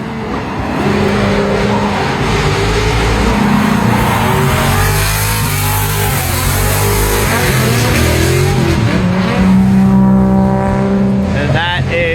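A drift lead car, with an R33 GTR as sweep car, runs at a drift event: its engine roars and revs loud and close as the tires squeal for about twelve seconds, with faint voices underneath.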